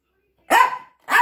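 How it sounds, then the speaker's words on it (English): Two sharp, high-pitched yappy barks from a small mixed Chihuahua, close by, separated by a brief pause. "Quit barking."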